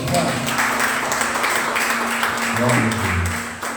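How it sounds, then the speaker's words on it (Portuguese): Clapping from a church congregation during a worship service, mixed with voices and a sustained tone underneath. "Você pode aplaudir ao Senhor?"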